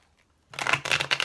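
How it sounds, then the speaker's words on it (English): Tarot cards being shuffled by hand, a burst of quick papery riffling that starts after a short silence and continues in close, brisk flutters. "Let me get two more shuffles."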